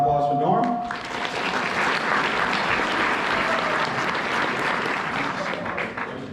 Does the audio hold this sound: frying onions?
no